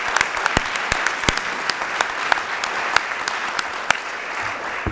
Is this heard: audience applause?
yes